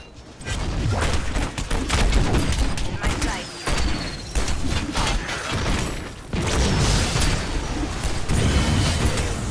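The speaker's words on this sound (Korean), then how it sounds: "자, 또 저격했죠, 지금." Nova's sniper shot in the video game Heroes of the Storm, heard within dense, loud game combat audio: repeated sharp gunfire-like cracks and impacts over a continuous roar, with a brief dip near the middle.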